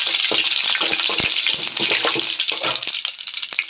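Four whole dried red chillies fry in hot oil in a pan, producing a loud, close, crackling sizzle with bursts of sharper pops and stirring noise throughout.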